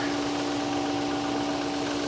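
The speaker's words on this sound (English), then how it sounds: "Well, here is the engine." A car engine idles steadily under an open hood at close range, a constant mechanical hum and buzz with an even vibration and no talking.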